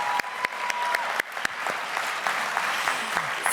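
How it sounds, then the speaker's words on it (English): Audience applause at a tech community milestone gathering in Miami, steady clapping from a modest crowd with a few sharp, distinct claps standing out close by, continuing evenly for a few seconds. "I know we did one round of applause, but just a second one to get us started for the day."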